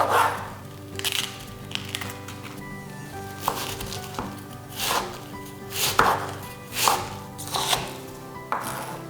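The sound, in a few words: chopping purple cabbage into bite-sized pieces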